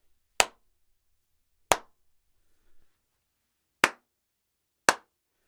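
Four separate sharp hand claps in a quiet room being tested for reverb, each a crisp snap with a short decay, spaced irregularly with a faint soft knock between the second and third.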